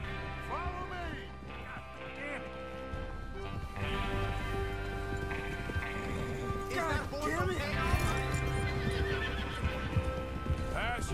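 Horses in Red Dead Redemption 2 whinny and neigh repeatedly over steady clip-clopping hooves, with game music and talk running underneath throughout.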